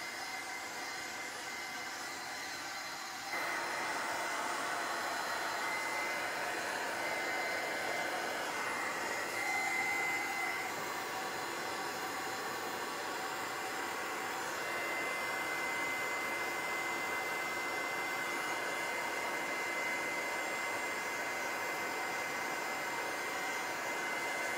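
A hair dryer blows on a craft frame being redone in metal and rust effects, a steady close whoosh of air that grows louder after a few seconds and then holds constant, alone without talk.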